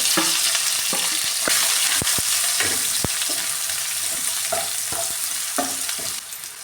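Onions, green chillies, dried red chillies and curry leaves fry in hot oil for a Kerala koorkka masala meat curry, a loud continuous sizzle broken by repeated sharp scrapes and taps of a stirring spoon.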